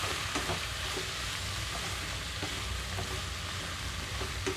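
Amaranth leaves and soaked chana dal fry in a pan with a steady loud sizzle, broken by occasional soft stirring scrapes and no voices.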